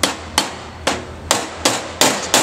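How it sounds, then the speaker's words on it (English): A hammer knocks a tapered roll pin into the handle of a jockey wheel: six sharp, close metallic strikes at uneven intervals, with no talk. "Then take the hammer and knock it"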